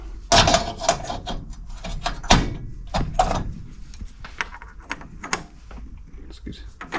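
A quick change tool holder is swapped on a lathe by hand, producing a series of sharp metallic clunks, knocks and slides of varying loudness, close up, with a voice talking intermittently.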